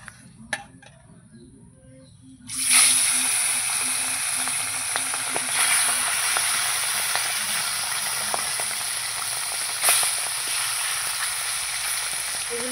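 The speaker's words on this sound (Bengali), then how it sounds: "আবার আমি মাছ ভেজে নেব।" Pomfret fish pieces frying in hot oil in a home kitchen, a loud continuous sizzle that starts abruptly after a quiet opening and holds steady, with occasional crackles and pops.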